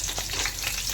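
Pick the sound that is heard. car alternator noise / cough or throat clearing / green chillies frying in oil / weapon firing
green chillies frying in oil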